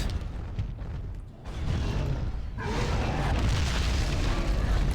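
Turrets blown apart in the PC game Giants: Citizen Kabuto, heavy booming blasts and rumbling explosions filling the scene continuously, loud and dense with a brief dip before the roar swells again.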